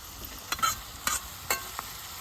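Onions fry in a pan with a steady soft sizzle, while a utensil stirs them in several brief scraping strokes at close range.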